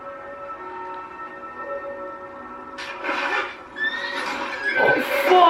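A horse in a dramatic period-fantasy scene lets out several loud, close neighs and whinnies in quick succession, rising over a quiet, humming background.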